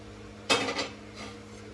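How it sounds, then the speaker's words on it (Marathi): A tava griddle is set down on a gas stove, giving one sharp metallic clank with a brief ringing rattle and a fainter knock after it, heard up close in a home kitchen. "तवा गॅसवर ठेवलेला आहे."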